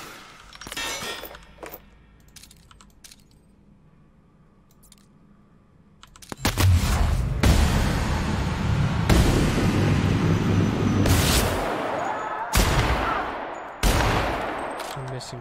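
Gunfire in the video game The Outer Worlds, with a few sharp isolated shots early on, then sustained loud bursts of rapid fire and impacts, broken by brief gaps and further shots.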